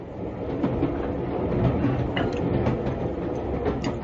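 Steady rumble and clatter of a passenger train running on rails, a continuous close rolling sound with faint wheel clicks, alone without voices.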